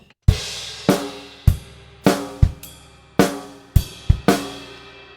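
A drum kit plays a two-bar groove with swung eighth-note upbeats on the bass drum under a hi-hat pattern, with sharp, evenly spaced hits and ringing decays, close and loud with no voices.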